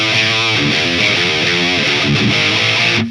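A heavily distorted electric guitar, played through a Fane speaker and a K100 speaker, chugs a loud, dense riff with shifting palm-muted notes for about three seconds before cutting off.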